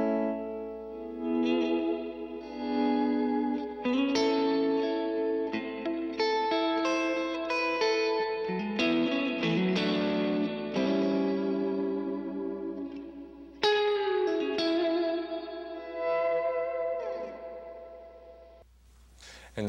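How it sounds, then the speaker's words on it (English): Electric guitar through an Electro-Harmonix Holy Grail reverb pedal on its hall setting plays sustained chords and melodic lines drenched in a wide, lingering reverb, notes blooming and tailing off into a spacious wash. "The next setting is hall reverb."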